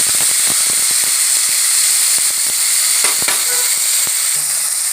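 Dried fish frying in hot oil in a wok, a steady close sizzle and hiss with scattered crackles and pops throughout, no voices.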